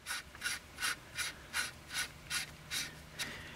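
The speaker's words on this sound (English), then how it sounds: "we're going to take our barrel nut and go ahead and just put it onto the receiver threads" A barrel nut being threaded by hand onto AR-style rifle receiver threads while fitting a BCM MCMR M-Lok handguard, giving eight evenly spaced metallic ratcheting clicks, close and fairly quiet, with no talking.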